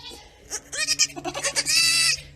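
Goats bleat at a goat yoga class in Nashville, several short, nasal cries in quick succession ending in one longer, louder bleat, close by and with no talk over them.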